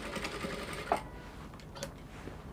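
A sewing machine stitches fabric while a dress yoke is attached, giving a continuous close mechanical whir and rapid needle rattle that eases slightly partway through, with no talking.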